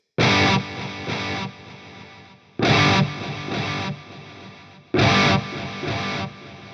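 Distorted electric guitar strums in three bursts through three panned PCM70-style delays on an AX8, each followed by quieter delayed repeats that trail off before the next strum.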